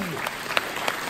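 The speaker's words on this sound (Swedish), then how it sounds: "En varm applåd." Applause from a crowd at a live kick-off show, clapping heard briefly through a dense, noisy room.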